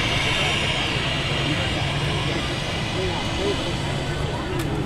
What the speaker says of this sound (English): Lufthansa A319, just coming in.